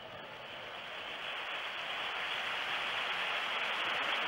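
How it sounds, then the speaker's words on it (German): A large stadium crowd at a 1974 FC Barcelona versus Feyenoord cup match applauds a substitute leaving the field, a broad, steady wash of clapping from a distance that swells slightly and holds, with no talking. "Applaus für den jungen Migueli."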